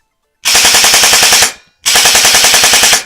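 An Ares Amoeba M4 airsoft gun with an upgraded gearbox fires two full-auto bursts, each a rapid, evenly spaced mechanical rattle about a second long, loud and close, separated by a brief silence.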